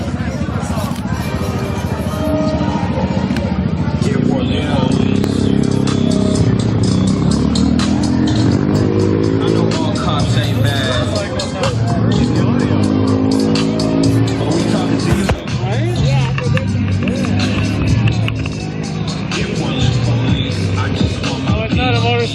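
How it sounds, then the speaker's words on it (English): Recorded motorcycle engine sounds blast from a boombox at a live street protest, loud repeated revving swells over a constant crowd hubbub with people talking nearby. "Motorcycle, it's a boombox."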